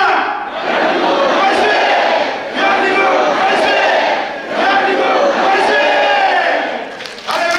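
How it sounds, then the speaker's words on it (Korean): A large congregation at a 2023 March First Independence Movement Day joint worship service shouts manse for Korea in three loud, sustained group cheers, each separated by a brief pause. "대한민국 만세를 한번 외치겠습니다"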